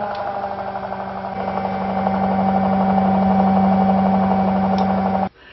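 A power generator with a cooling fan runs at a steady, close mechanical drone with a constant hum, with no voices, until it cuts off abruptly near the end.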